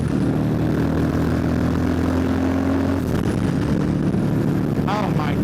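Turbocharged 2024 Harley-Davidson CVO ST motorcycle engine revving as boost builds, a loud sustained drone with a rising jet-like whine, joined by excited voices near the end.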